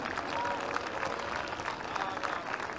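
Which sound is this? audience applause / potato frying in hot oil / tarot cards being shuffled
audience applause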